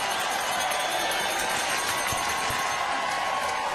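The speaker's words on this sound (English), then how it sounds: "If this goes down, there'll be a decent cheer" At a biathlon shooting range at the IBU World Cup in Östersund, a spectator crowd cheers and roars loudly, a continuous wash of voices and whoops with faint clapping mixed in.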